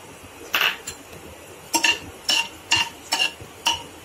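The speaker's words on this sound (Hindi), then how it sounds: "और जब तक ये फूल नहीं जाती है तब तक इसे अच्छे से चलाते रहेंगे।" A metal spoon stirring lightly crushed green cardamom in hot ghee in a pan, a series of about six sharp metallic clinks and scrapes at an uneven rhythm over a quiet background.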